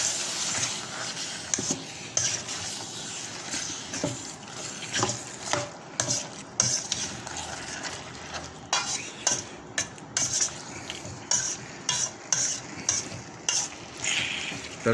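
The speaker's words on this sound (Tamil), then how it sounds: "இப்போ இது எல்லாத்தையும் ஒரு பரட்டிக்கணும்" Spices sizzle steadily in a hot pan while a spoon scrapes and stirs in repeated strokes, the scraping growing more rhythmic toward the end.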